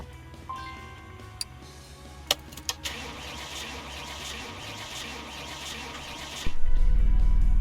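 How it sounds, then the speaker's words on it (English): A car engine starting in Car Mechanic Simulator 2018 on the test path: a few sharp ticks and clicks over a low hum, then the engine catches with a loud rumbling roar at the end. "Okay, the car starts."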